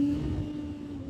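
Honda motorcycle fitted with E-Clutch running at high revs through a gear shift, a steady close engine drone with a slight dip in pitch as the gear changes.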